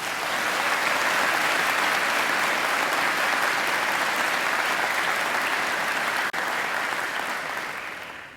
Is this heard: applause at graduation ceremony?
yes